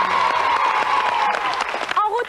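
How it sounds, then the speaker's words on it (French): Studio audience on a French children's TV show applauding in a dense, sustained wash, with a presenter's voice speaking over the clapping. "Bravo Jamel, on peut encore l'applaudir."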